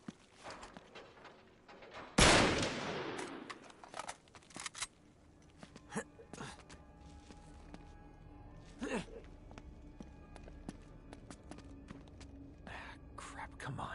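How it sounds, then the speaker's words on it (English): A single loud gunshot blasts a lock in an Uncharted game, one sharp close crack with a decaying tail, followed by quieter scuffs and knocks while people talk. "Back up, I'll shoot the lock."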